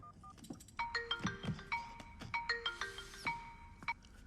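A mobile phone ringtone chiming out a bright melodic pattern of repeated tonal notes, fairly close and clear, with no voices over it, in a movie scene.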